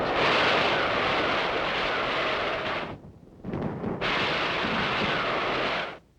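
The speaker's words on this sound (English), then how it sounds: "Big guns of the fleet continue to pound the Chinese in the hills." Heavy naval guns of a fleet pound Chinese positions in the hills of northeast Korea in 1952, heard as a sustained loud roaring barrage with a brief lull midway before the thunder resumes.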